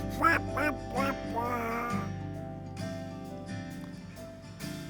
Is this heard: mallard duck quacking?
yes